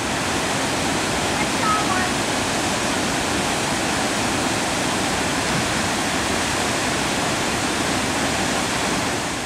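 Steady rushing of the Torrent River's flowing water near Shady Pool off the John Hogan Trail, Newfoundland, a loud, unbroken broadband roar like a small waterfall, close and constant throughout with no pauses.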